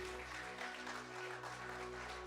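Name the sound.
congregation applause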